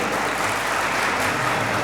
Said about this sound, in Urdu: بہت ساری تالیاں